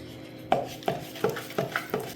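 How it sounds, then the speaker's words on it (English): Milk being stirred into a thick brown-sugar cinnamon bread glaze in a bowl, with five or six evenly spaced scraping strokes of the utensil against the bowl, close and moderately loud, no talking. "I'm just gonna mix this in"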